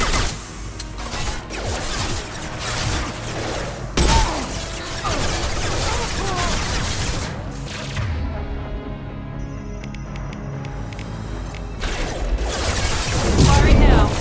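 In the video game Mass Effect 2, weapons fire in loud bursts with booms, crashes and whooshes over dense combat noise, and voices speak through the action.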